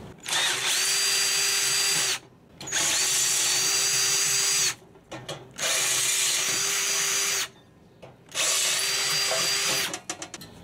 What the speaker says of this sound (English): So I'm going to try drill it a little bit bigger.